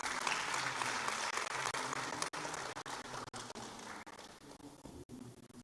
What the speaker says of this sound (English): Madam deserves another round of applause